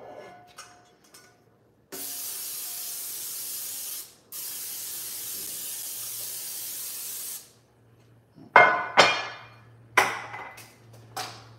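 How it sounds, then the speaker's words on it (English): Cooking spray is sprayed onto a casserole dish for a cabbage casserole in two long hissing bursts, followed by a few sharp knocks and clatters of kitchenware. "We're going to spray the dish."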